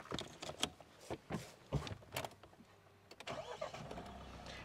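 A Mahindra Scorpio Classic SUV with key start, heard with keys and cabin clicks, then a short cranking burst as the engine catches and settles into a low, quiet idle, recorded inside the vehicle.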